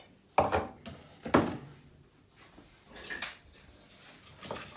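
Butter dropped into a mixing bowl while baking, giving two sharp knocks of bowl and utensil against a countertop, followed by softer scraping and clinking. Sounds are close and fairly quiet, with no talking.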